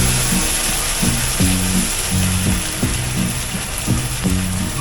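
Sweet and sour sauce sizzling in a pan with meatballs, a steady loud frying hiss with a rhythmic scraping pulse about twice a second as the pan is stirred.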